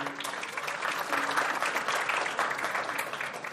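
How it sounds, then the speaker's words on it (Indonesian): Audience applause for Pak Biri at an industry talk, a short burst of steady clapping from a modest crowd, fairly distant and even, fading slightly at the end. "Aplaus dulu untuk Pak Biri."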